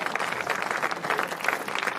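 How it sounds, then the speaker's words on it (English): Audience applause at the Škoda Peaq electric car world premiere, greeting Chris Froome and a group of riders; a fairly faint, steady patter of many hands clapping. "Let's give a huge round of applause for Chris Froome and our peloton of Škoda"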